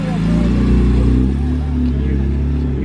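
A BMW E46 M3 ZCP at a car show, its engine holding a loud, close, deep rumbling idle that swells slightly mid-clip as it revs, with no other sounds over it.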